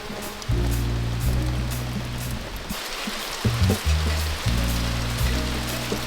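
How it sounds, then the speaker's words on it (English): Rain falling steadily over a forest trail, a dense hiss of drops on surfaces, loud and continuous, with a low engine-like hum coming and going underneath. "Well, it's still raining."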